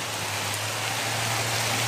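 Steady rain pours down in an even, continuous hiss, with no voices and no pauses.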